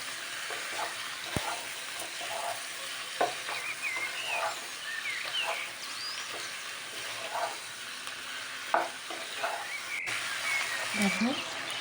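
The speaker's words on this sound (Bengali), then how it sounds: "এবার মাংসটাকে ভালো করে একটুখানি তেলের মধ্যে ভেজে নেব।" Chicken pieces frying in a little oil over a high gas flame, giving a steady sizzle with scattered stirring clatters and brief scrapes throughout, close and moderately loud.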